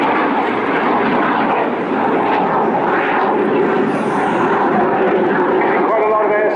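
A Strikemaster jet flying a display loop at the Bournemouth Air Festival gives off a continuous loud engine roar that swells and fades slightly as it passes, with a commentator talking over it.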